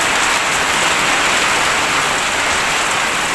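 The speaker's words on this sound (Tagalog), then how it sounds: "Nakita nyo lang yung mga kapak na ulan sa bubong" Steady, dense rain pattering on a roof, a continuous loud hiss of drops with no pauses and no voices.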